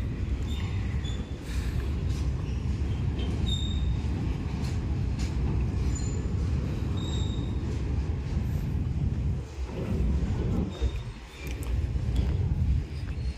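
A goods train moves through Charlapalli railway station, heard from the foot overbridge as a steady, fairly distant rolling rumble with faint metallic clatter.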